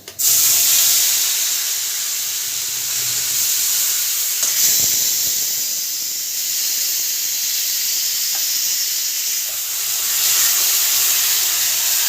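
Whole cinnamon, cardamom, cumin and bay leaf crackling into hot oil for a duck egg kosha, a loud continuous hissing sizzle that swells at the start and holds steady throughout.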